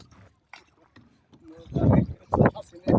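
A boat rowed by a boatman on a big river gives off intermittent close splashes and knocks that grow louder toward the end, with short quiet gaps in between.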